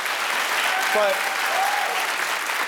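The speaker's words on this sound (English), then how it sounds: "we're applauding my inadequacies" Studio audience claps in a dense, even burst that runs the whole time, with a brief spoken word over the applause.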